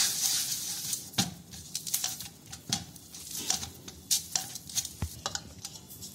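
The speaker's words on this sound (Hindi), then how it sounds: "ये देखिए मल के इस तरीके से डो तैयार होगा।" Fenugreek (methi) papad dough being kneaded by hand with oil gives soft, irregular squelching and patting sounds, close and fairly faint, with no talking.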